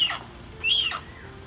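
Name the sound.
hornbill calling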